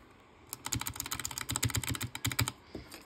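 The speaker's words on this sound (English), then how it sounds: "If you guys couldn't already hear them, they are Razer purple switches." Rapid, clicky keystrokes on a mechanical keyboard with Razer purple switches, close and fairly loud, in uneven bursts with no talking.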